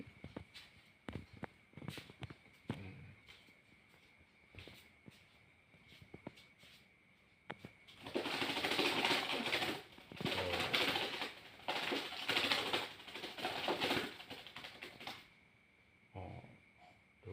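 A local Javanese perkutut zebra dove flaps its wings hard inside a cheap cage, making a loud rushing flutter in several bursts over the middle stretch, with light cage knocks and taps before and after.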